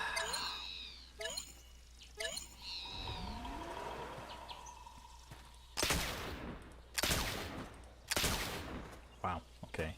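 Gunshots ring out while hunting in the video game The Oregon Trail: three sharp, loud cracks spaced about a second apart, following some chirpy game sounds and birdlike calls.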